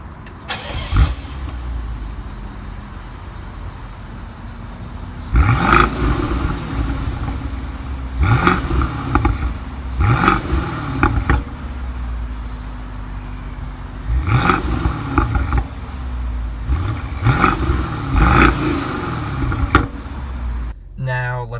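A 2015 BMW 650i Gran Coupe engine revs repeatedly, each loud rise dropping back with crackling exhaust pops as the revs fall from around 2,000 RPM, heard up close in several bursts with idle between.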